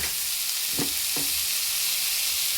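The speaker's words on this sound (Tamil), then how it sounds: "இதையும் கொஞ்சமாக போட்டு நம்ம ஆனியனோடவே நல்லா வதக்கிடலாம்" Onion with crushed ginger and garlic sautéing in hot oil, a dense, steady sizzle close by, with two brief stirring scrapes early on and no voices.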